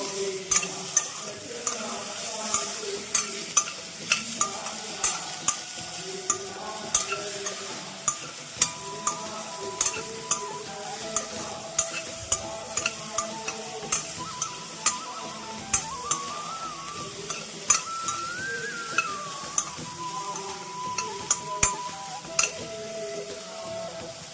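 Half-cut brinjal and vegetables sizzle in a pan for an Onam sadhya sambar, stirred often. A steady close fry runs under regular sharp scrapes and taps of the spoon against the pan.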